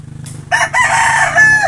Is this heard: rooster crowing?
yes